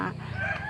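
Brief rooster crowing from a rice farm in Ang Thong at misty dawn, a short, moderately loud burst caught mid-call.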